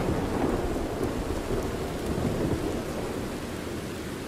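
A thunderstorm with heavy rain rolls through Red Dead Redemption 2, low rumbling thunder under a dense, continuous patter of rainfall, loud and steady throughout.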